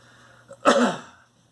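A single sharp cough or sneeze-like burst, loud and close, briefly breaking an otherwise quiet room.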